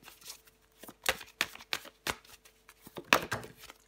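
Tarot cards being shuffled by hand during a reading, a run of crisp riffling bursts and soft slaps with short pauses between, close and fairly quiet with no talking.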